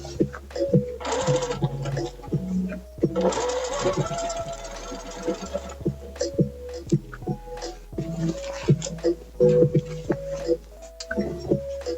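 A domestic sewing machine stitches a quarter-inch seam on a wrap dress in several short bursts of whirring, separated by pauses, with a voice talking at moments between runs.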